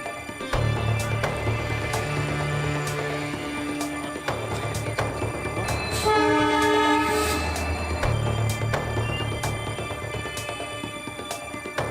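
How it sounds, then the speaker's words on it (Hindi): A heavy locomotive rumbles past on railway tracks with a low, steady roar, and a loud, drawn-out horn blares in multiple tones partway through, close by. "तभी पीछे से दूसरी इंजन हॉर्न बजाते हुए पहुंच जाती है।"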